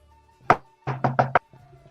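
Knuckles rapping on wood to imitate a pony banging on doors: a single sharp knock, a pause, then four quick knocks in a row, close and distinct with no talking.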